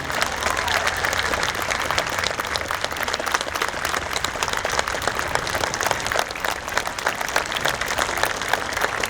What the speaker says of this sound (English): Round of applause for Mrs.